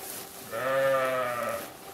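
A sheep in a sheepfold beside a house gives one clear, wavering bleat lasting about a second, close and moderately loud against quiet surroundings.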